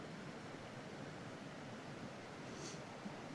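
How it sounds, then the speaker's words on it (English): A creek flowing outdoors near a campsite, with a steady, close rush of water that holds constant throughout and no voices. "Got this beautiful creek flowing behind me."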